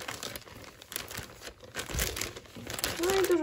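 A plastic foil bag printed with a thank-you message crinkles while an order is packed, with soft irregular rustles building to a louder crinkle at the end, and someone speaking alongside.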